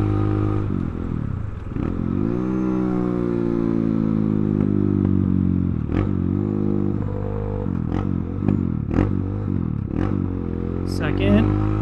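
A 2021 Kayo K2 230 dirt bike with its aftermarket muffler runs close and loud, a deep throaty engine note climbing through the gears with repeated rev rises and shift dips, plus some mechanical clatter.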